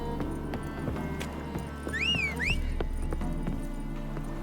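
A horse gallops in The Witcher 3 Wild Hunt, its quick rhythmic hoofbeats running under game music, with a brief whinny partway through.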